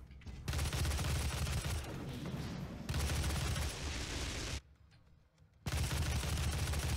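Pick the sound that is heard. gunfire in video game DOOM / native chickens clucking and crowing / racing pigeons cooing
gunfire in video game DOOM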